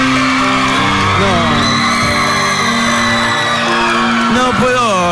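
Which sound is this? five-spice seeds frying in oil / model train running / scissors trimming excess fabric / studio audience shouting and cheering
studio audience shouting and cheering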